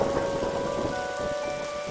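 Steady rain with a low rumbling thunderstorm fills a video game scene from Darkside Detective, a continuous dense wash of downpour with a faint tonal hum beneath, no voices present.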